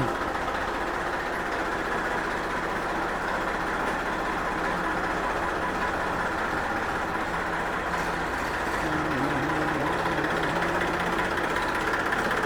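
Steady diesel rumble of a Massey Ferguson 241 DI tractor being driven out, a continuous low engine drone at moderate distance with no talk over it.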